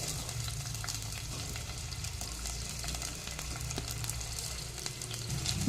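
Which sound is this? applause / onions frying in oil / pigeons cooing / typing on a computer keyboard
onions frying in oil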